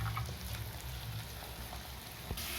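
Salted tomatoes frying in a pan give a steady, dense sizzle and crackle that stays constant and fairly close throughout, with no voices.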